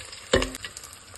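Onions dropped into hot sesame oil already crackling with mustard seeds, fennel, a cinnamon stick and garlic give one loud sizzling burst that settles into a steady, softer fry.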